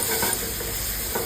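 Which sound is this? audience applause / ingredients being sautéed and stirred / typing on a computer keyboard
ingredients being sautéed and stirred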